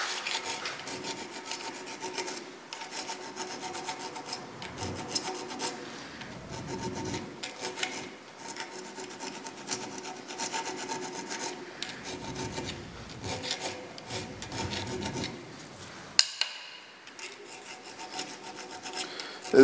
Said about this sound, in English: This is a chainsaw file,